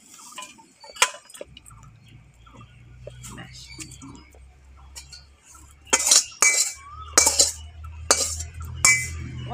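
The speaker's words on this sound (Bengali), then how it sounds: "এবার এটা আমি নামিয়ে নেব, নিয়ে ঢেলে নেব।" Fried cabbage from a Bengali vegetarian recipe being taken off the heat and turned out of the pan: a spatula scrapes and taps the metal pan, quiet at first, then several loud clattering clinks in quick bursts.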